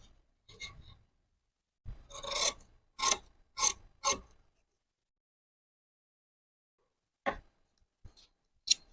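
Scissors snipping through fabric along a tuck line while cutting a princess-cut garment, a few crisp close rasping cuts in quick succession, then a pause and two short isolated snips.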